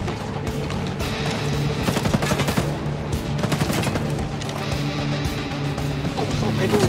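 Soldiers fire rapid bursts of automatic gunfire in the video game Ghost Recon Breakpoint, with dense, loud volleys and scattered single shots that continue throughout.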